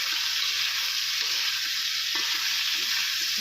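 Hot cooking oil sizzles steadily in a pan, a dense, even, close frying hiss with faint low knocks underneath, no speech.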